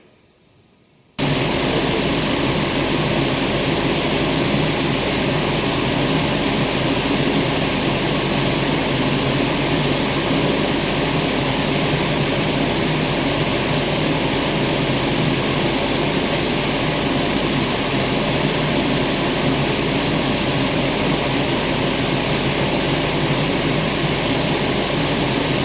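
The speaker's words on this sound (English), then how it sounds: "Let's start up this engine and see what our fuel trims are doing." A car engine during a diagnostic check at a dealership switches on abruptly after a brief quiet moment, then holds a loud, steady, broadband idle roar with no one talking.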